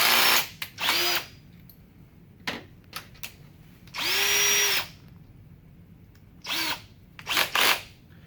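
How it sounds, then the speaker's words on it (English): An electric drill with a 1/16 bit whirs in several short bursts, one longer run in the middle, with brief quiet gaps between them, drilling pilot holes for brad screws in a beehive body. "I drill essentially just a pilot hole for my brad here"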